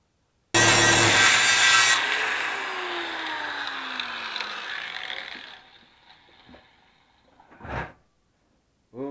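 A cutoff wheel slices through metal pipe for a budget turbo log manifold: a harsh, loud grinding burst, then the wheel whines down and fades, with a brief clank near the end.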